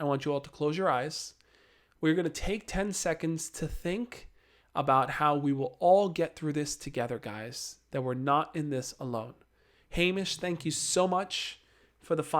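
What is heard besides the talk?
No distinct noise like a dog, phone or traffic.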